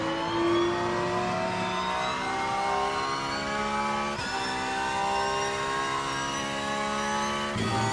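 Porsche 911 GT3 R race car engine at Monza in the racing game RENNSPORT, revving high and shifting through gears, with loud sustained whining tones that drop sharply at two gear changes.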